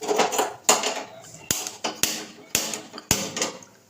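A metal tiffin box being set into a wok with water for steaming paneer, giving a run of about six sharp metallic knocks and clanks, close and fairly loud, with no talking.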